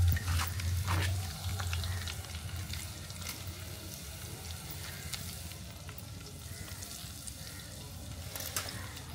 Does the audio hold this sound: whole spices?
yes